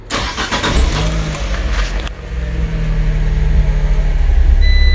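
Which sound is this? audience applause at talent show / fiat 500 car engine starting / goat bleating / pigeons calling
fiat 500 car engine starting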